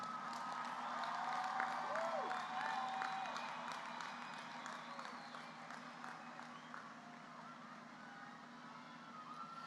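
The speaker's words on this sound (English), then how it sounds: "You may now applaud for all of these outstanding seniors." At a high school graduation ceremony, applause for graduating seniors comes across faint and distant, a soft continuous patter of clapping spread through a large hall, with a few whistles and murmuring voices.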